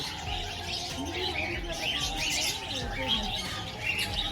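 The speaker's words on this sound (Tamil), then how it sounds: "இந்த கேட்டுக்குள்ளே பல வகையான நிற குருவிகள் இருக்கலாம் நிறைய குருவிகள்" Many small birds chirp and tweet at once in a busy, continuous chorus in an aviary at Dehiwala Zoo, with some squawks mixed in over a steady background hum.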